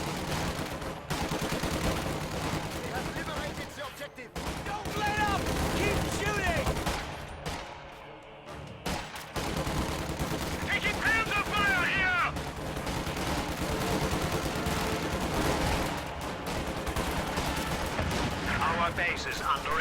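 Volleys of rifle fire ring out from inside a building in a World War II strategy video game, with repeated bursts of gunshots and explosions, a short lull midway, and a commentator talking over the action.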